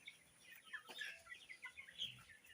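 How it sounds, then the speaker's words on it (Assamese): Local chickens on a raised poultry farm cluck and chirp in soft, irregular bursts, fairly close, with no talk over them. "ইয়াত কেইটামান লোকেল মুৰ্গীও আছে"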